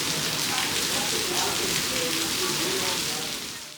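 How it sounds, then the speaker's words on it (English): Heavy rain pours steadily outside a prayer hall in Penang, a dense broadband hiss with scattered drips, continuous throughout and fading slightly at the end. "It's starting to rain properly now."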